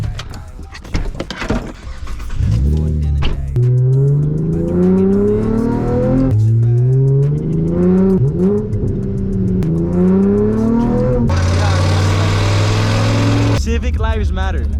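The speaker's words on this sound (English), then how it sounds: "Rev it, rev it, rev it." A Chevy Camaro engine revs repeatedly, rising and falling in pitch with loud climbing whines, then holds a steady roar, close by with people talking over it.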